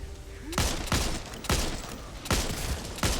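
Gunfire in the video game Back 4 Blood: loud, close gun blasts in a run of four or five sharp reports at uneven intervals, each trailing off into a noisy decay.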